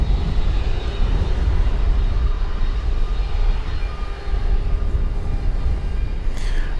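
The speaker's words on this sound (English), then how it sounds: "Air Canada Flight 1033 coming in from Toronto on an Airbus A220 here on runway DFW" An Air Canada Airbus A220 landing at DFW Airport gives a loud, steady roar of jet engines that holds for several seconds with only a slight dip near the end.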